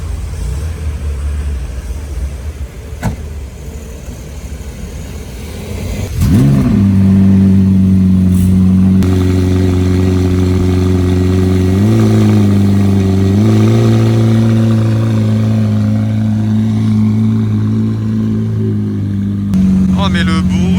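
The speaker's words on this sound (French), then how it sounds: "Départ de la McLaren Elva." A McLaren Elva engine starts low, then roars up loudly and holds a throaty, revving drone that rises and shifts pitch as it accelerates away in Monaco, close by, with a final rev.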